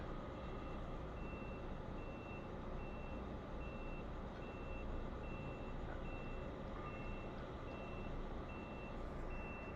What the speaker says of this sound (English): We got the water trucks coming in.